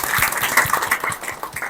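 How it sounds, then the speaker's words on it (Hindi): An audience at a school function claps steadily in a dense, continuous burst of applause with no voices over it. "प्रधान जी के लिए एक बार फिर से तालियां"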